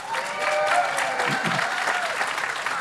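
Audience applause at a book festival panel on income inequality, a fairly loud burst of clapping from a crowd with a voice briefly audible over it.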